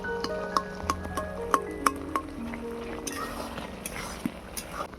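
Boiled bottle gourd for a sour chutney is stirred in a pot, with a run of light metallic clinks and taps from the spoon against the pot's sides over a soft background.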